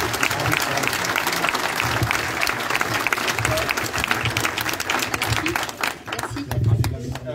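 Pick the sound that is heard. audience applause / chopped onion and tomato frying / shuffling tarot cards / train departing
audience applause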